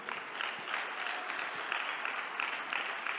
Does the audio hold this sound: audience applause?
yes